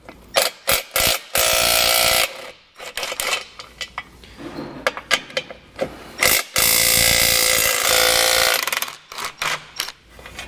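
Ratchet wrench loosening the bolts holding the impact bar on a 2020 Tesla Model 3, heard as repeated bursts of loud, close clicking and mechanical rattling with brief pauses between strokes.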